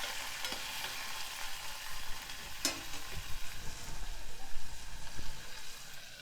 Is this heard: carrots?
yes